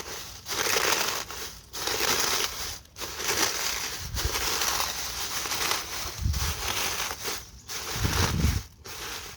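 Eggshells crushed by one hand for compost bin food scraps, crackling and crunching in repeated bursts close up, with brief pauses between squeezes.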